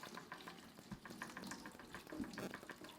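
Fresh fenugreek leaves are swished and rinsed in a basin of water, producing soft irregular splashes and sloshing with a few sharper dips, close and fairly quiet with no voices.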